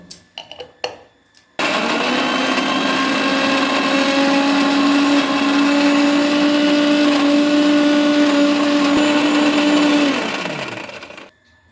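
A blender grinding cauliflower leaves with yellow mustard seeds into a paste: a few handling knocks, then a loud, steady motor whir that holds for about eight seconds before spinning down and stopping, close and alone.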